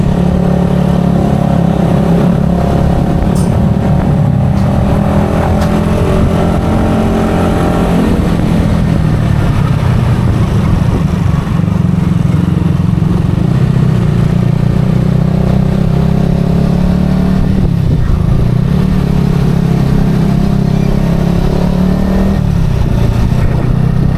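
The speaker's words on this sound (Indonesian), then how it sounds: "Ini gigi 2 masih oke. Lanjut terus, gas terus Mima." Yamaha XSR motorcycle engine pulling uphill in second gear through congested traffic on a touring ride, a steady close drone with gradual rises in revs and continuous wind rumble throughout.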